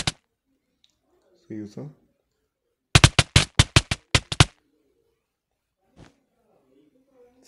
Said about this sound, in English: So this is repulsor.